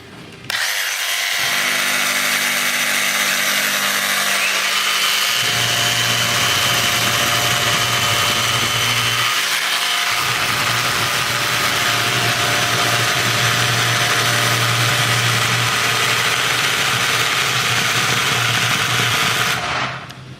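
Milwaukee and DeWalt top handle chainsaws run at full throttle, one after the other: a loud, continuous buzzing engine whine with short dips where one saw stops and the next takes over.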